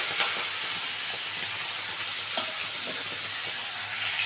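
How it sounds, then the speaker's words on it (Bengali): Fish fries in hot oil in a pan after being flipped, a steady, loud bright sizzle and crackle with soft spitting, close by and without talk. "আরেক পিঠ ভালো করে ভাজা করে নেবো"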